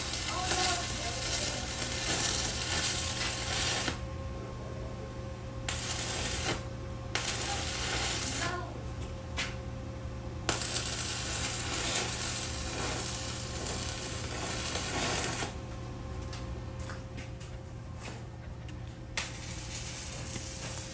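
Welding on a metal smoker gives a loud, steady crackling sizzle that starts and stops in several separate bursts, with quieter gaps of background hum between the arcs.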